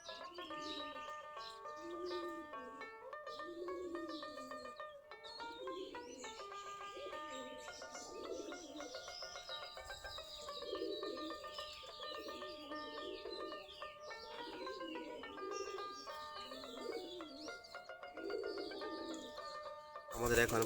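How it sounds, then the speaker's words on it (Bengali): Local Giribaj pigeons cooing near their coop, soft repeated low coos overlapping steadily throughout, mixed with a bright, tonal background layer. "আমাদের দেশি জাতের গিরিবাজ কবুতর।"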